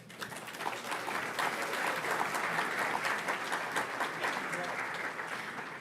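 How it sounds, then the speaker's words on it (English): A lecture audience gives sustained applause, building quickly to a steady, full level and holding before tapering slightly, with some faint voices mixed into the clapping. "That in itself deserves an applause."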